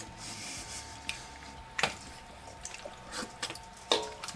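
Wet, sticky squelching and slurping of cold canned ravioli sauce, a few soft squishes scattered over a quiet background with faint dripping.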